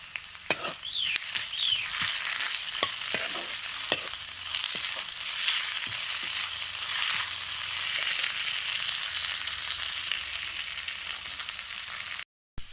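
Ginger-garlic paste with onions sizzles steadily in a pan for a local chicken curry cooked over a fire, with occasional sharp scraping clicks of stirring and no voices.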